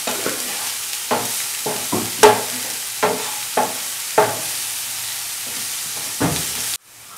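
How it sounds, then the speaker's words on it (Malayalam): Spoon stirring sliced green chili and onion with salt in a hot pan, a string of scraping, clattering strokes over a steady low sizzle, ending in a sharp knock. "ലേശം ഉപ്പിട്ടിളക്കാം"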